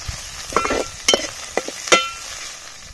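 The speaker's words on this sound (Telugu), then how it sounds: "అల్లం వెల్లుల్లి పేస్ట్ పచ్చివాసన పోయేదానికి ఫ్రై చేసుకొని టమాటాలు వేసుకుందాం" Ginger garlic paste frying with onions in a pan, with a spoon or spatula clinking and scraping four times over a faint, continuous sizzle.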